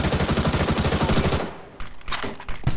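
Rapid automatic gunfire from a CS:GO match rattles loudly in a steady burst for over a second, then breaks off into a few scattered sharper shots and clatter.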